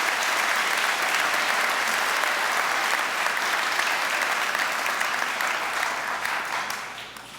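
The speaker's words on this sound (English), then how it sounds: "Let's give your classmates a round of applause." A school assembly audience honoring Martin Luther King, Jr. gives classmates a round of applause, steady dense clapping from a large crowd that holds at full strength and begins to fade near the end.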